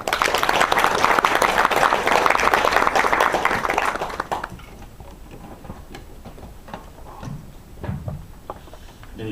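Lecture audience applauding at the close of a quality management talk at LS Electric, dense steady clapping for about four seconds before fading into scattered room noise and small knocks.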